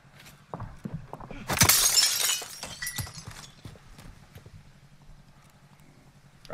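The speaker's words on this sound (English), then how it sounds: "I just keep breaking glass around him" Glass shattering from gunshots in Call of Duty: Modern Warfare, a sharp bright crash that sprays fragments for about a second, then scattered tinkling and thuds, with a few soft clicks around it.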